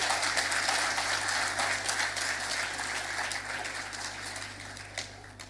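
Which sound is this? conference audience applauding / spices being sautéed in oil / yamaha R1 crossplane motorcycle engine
conference audience applauding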